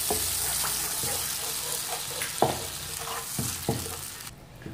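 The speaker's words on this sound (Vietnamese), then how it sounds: "Và mình sẽ cho vào đây cái nước sốt me nhé" Tamarind sauce poured into a pan for a dipping sauce for grilled pork cartilage, a soft sizzle and liquid pouring with a few sharp stirring clinks.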